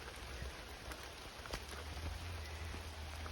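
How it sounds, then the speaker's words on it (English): Steady rain falls on a forest trail near a rock maze in Oakland, Maryland, a constant broadband hiss with scattered drop taps and a low rumble beneath, unbroken and fairly close throughout. "Seems like the rain slowed down just a tiny little bit"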